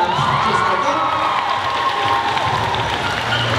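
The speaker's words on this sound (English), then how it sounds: "clap your hands, make some noise when I go over the top" A crowd cheers and whoops loudly at a BMX stunt show as a rider clears a bike, a dense, steady roar of voices with some clapping mixed in, close and continuous throughout.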